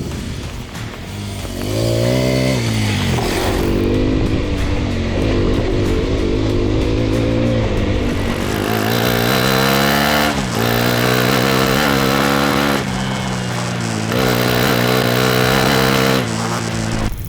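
A Hero XPulse 210 motorcycle rides off-road, its exhaust note loud and close, rising and falling through repeated revs and gear changes with a steady throbbing drone and no talk.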